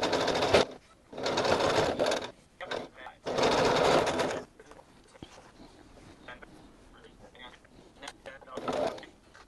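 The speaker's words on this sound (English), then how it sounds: "So I'm going to put you on time lapse while you watch me sew." Home sewing machine stitching a quilt block in short bursts of busy mechanical whirring, separated by quiet pauses with light handling noises.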